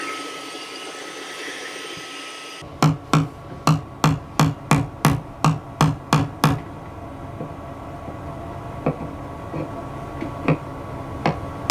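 Hammer strikes on a chisel cut an opening for a water pump on/off switch in a 2022 Airstream Interstate 19 van, about a dozen sharp evenly spaced blows, then fainter scattered taps, with no talk.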